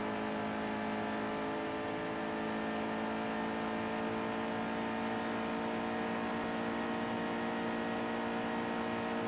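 NASCAR race car at full throttle in NASCAR Heat 2, a sustained dense engine drone holding steady and loud for the whole stretch with no talking.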